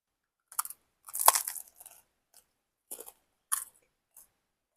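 Close, crisp crunching bites and chewing on crusty homemade bread baked in a Dutch oven, with several short bursts spread across a quiet background and no talking.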